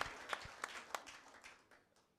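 A small church congregation gives faint, scattered applause. A handful of separate claps rings out, then the clapping thins and fades out over about two seconds.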